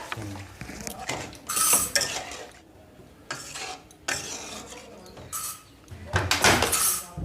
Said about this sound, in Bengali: আমি এটাকে নেড়ে ভালোভাবে কষিয়ে নেব।